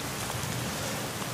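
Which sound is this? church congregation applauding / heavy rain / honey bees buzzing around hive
heavy rain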